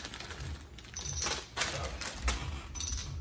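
A deck of playing cards is shuffled at a poker table in a few quick, rattling riffle bursts, close and fairly soft, with quiet gaps in between.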